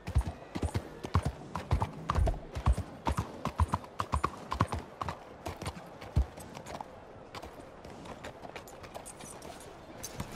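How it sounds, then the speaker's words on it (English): A horse in Red Dead Redemption 2 walks with a quick, uneven clip-clop of hooves close by, the steps thinning out toward the end with no clear whinny. "You ought to take care of that horse there."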